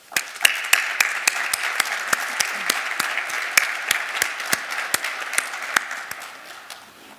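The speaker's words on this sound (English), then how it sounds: "by giving them a round of applause" A graduation commencement audience applauds with warm, sustained clapping that rises quickly and then fades out near the end, and the sharp individual claps stand out within the dense crowd sound.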